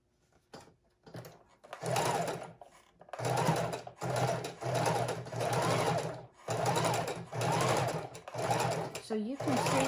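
A sewing machine runs a zigzag stitch through junk journal pages, its motor whirring in a steady series of close, loud bursts separated by brief pauses.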